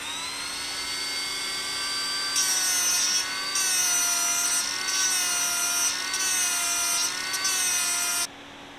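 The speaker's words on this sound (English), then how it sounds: "I gotta sharpen my tungsten real quick." A TIG welding tungsten electrode is sharpened against a grinder, a steady high whine with the pitch dipping slightly each time the tip is pressed on, in several close contacts over a constant motor hum.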